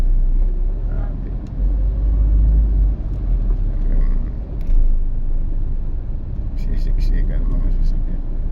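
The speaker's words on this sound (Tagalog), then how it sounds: "Grabe traffic dito sa ano, sa Bayani Road, Taguig. Siksikan." Heavy, congested road traffic on Bayani Road in Taguig, near a military camp, with heavy equipment about: a steady low engine rumble from packed vehicles throughout, with someone talking over it.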